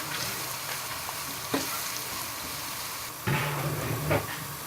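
Sautéed onions with salt, red chilli powder, black pepper and turmeric are stirred in a hot pan, giving a steady close sizzle with a few scraping clanks of the spoon.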